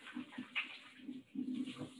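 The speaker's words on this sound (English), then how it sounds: "Gotta wash my hands again." Hands are washed under a running tap in a home kitchen: a soft, uneven splashing of water, rising and falling as the hands move beneath the stream, fairly faint and close.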